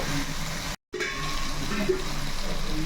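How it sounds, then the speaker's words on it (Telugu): Water is poured into a pan of frying chicken curry, a steady close gushing and sizzling wash that cuts out briefly and resumes. "ఇప్పుడైతే చూడండి చక్కగా వాటర్ వేసుకుందాము"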